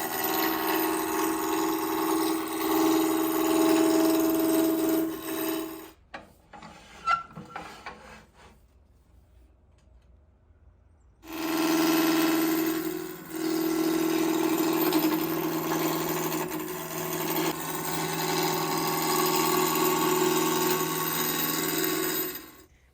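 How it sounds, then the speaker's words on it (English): Walnut bench legs spin on a wood lathe while a roughing gouge cuts them to cylinders: a loud, steady rasping hum of the turning spindle, a quiet pause with a few light knocks midway, then the continuous cutting roar resumes. "I'm going to use a roughing gouge to turn these into cylinders, and from there I'll go to the parting tool."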